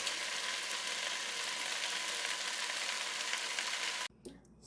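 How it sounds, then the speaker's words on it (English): Pot of okra simmering in coconut milk with parboiled rice, stirred steadily, giving a continuous close sizzle and wet bubbling hiss that cuts off abruptly near the end. "So you're going to stir your pot."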